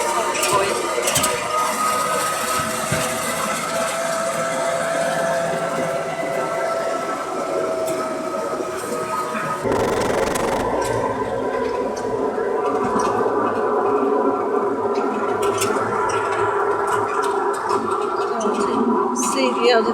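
A 20-vehicle military vehicle convoy with an outrider rolls past at an old main entrance, giving a steady, loud engine rumble and clatter throughout, with a shift in the noise midway as vehicles pass and voices in the background.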